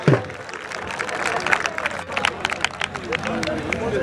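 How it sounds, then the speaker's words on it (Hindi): Crowd applause and clapping at an outdoor kabaddi match in a Punjab stadium, dense and steady throughout with sharp claps standing out over a noisy, murmuring crowd. "ताली मार दे यार एक जोरदार तालियां दी"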